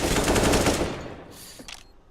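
Rapid AK rifle bursts in a Counter-Strike match, a dense loud volley fading into a few scattered shots toward the end.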